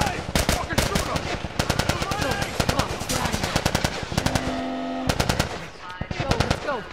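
Gunfire in the video game The Last of Us Remastered, with loud rapid bursts of automatic fire and single shots that crack repeatedly across the whole stretch, close and dense, with shouting voices mixed in.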